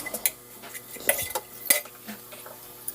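A spoon repeatedly scrapes and clinks against a pan while stirring a thick Dharwad peda milk mixture, with the stove off, in a series of irregular strokes close by.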